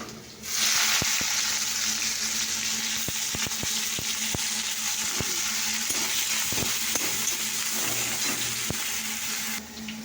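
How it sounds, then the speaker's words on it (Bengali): Dried chillies, panch phoron and bay leaves fry in hot oil with a steady, loud sizzling hiss, sharp spits and crackles scattered through it, close up, with no talking. "তো দেখো এখানে তেল দেওয়া হয়েছে, শুকনো লঙ্কা, পাঁচফোড়ন আর তেজপাতা দেওয়া আছে।"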